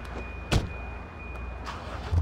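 A family car in the game Sleeping Dogs drives along with a steady engine hum and road noise, a sharp clack near the start, moderately loud with no speech.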